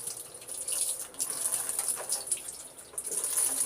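Running tap water pours steadily over hands as ginger-garlic paste is rinsed off in a home kitchen sink, a continuous close splashing hiss with no talking.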